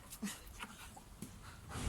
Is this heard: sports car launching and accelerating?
no